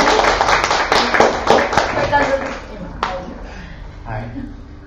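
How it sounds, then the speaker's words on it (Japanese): Audience clapping at an election camp opening talk in Shibuya, a scattered burst of claps mixed with voices, fading after a few seconds. "拍手が、"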